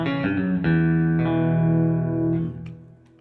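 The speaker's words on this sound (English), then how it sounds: "turn the delay time down until you can't hear the note actually doubled anymore, but it still sounds thicker than it would without the effect on" Electric guitar with a short delay doubling effect, playing a clean country-style chord that rings, then a second struck chord and a few lighter notes, sustaining close and full before fading out; no talking.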